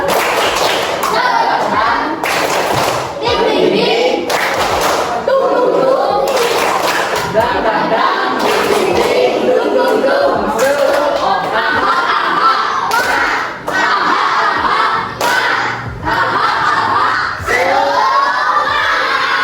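A classroom of primary schoolchildren performs a rhythmic spirit clap, with loud repeated clapping bursts and energetic group shouting filling the room continuously for the whole stretch.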